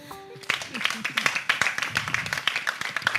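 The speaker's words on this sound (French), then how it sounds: "on doit encore applaudir" Audience clapping for candidates at a televised contest, a run of sharp claps starting abruptly after a brief tone, close and moderately loud, with voices speaking under them.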